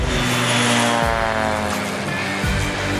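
An Air Tractor agricultural aircraft's engine drones loud and steady throughout, with a rich harmonic hum whose pitch shifts and dips slightly, and no voices.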